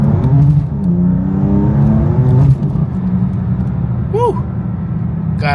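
BMW M4 CS, E90 M3 or Mercedes-AMG Black Series sports car pulling hard: loud, rising engine drone heard from the cabin, then it cuts off, with a brief electronic chirp near the end.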